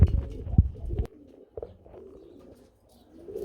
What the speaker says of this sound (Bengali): এটা কিন্তু সাধারণ কবুতর না, এটা হচ্ছে গররা কবুতর